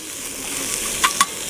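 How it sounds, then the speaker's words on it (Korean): Pork belly sizzles in a pan while being stir-fried at a campsite, a steady frying hiss with two sharp clinks of a utensil near the end, close and without speech. "아 여기서 이제 삼겹살을 넣습니다"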